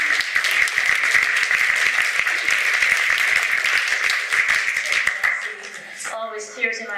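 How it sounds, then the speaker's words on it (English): An audience gives warm applause to an actress at a film discussion event, a full burst of clapping that fades out after about five seconds, followed by a voice beginning to speak. "big applause to Nancy for being a great actress"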